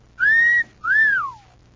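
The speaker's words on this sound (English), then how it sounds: "It'll have you whistling like you never whistled before." A person whistles two sustained, clear notes, the second bending downward at its end, loud and close with no talk over it.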